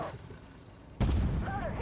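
A tank cannon shot in the online tank game Armored Warfare: a quiet stretch of low background rumble, then one sudden loud booming blast that rolls on without fading, with faint voice-like tones in the tail.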